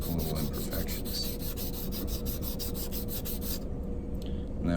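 Rhythmic back-and-forth rasping of a Texas state quarter being sanded flat on abrasive, close and steady strokes that stop abruptly near the end.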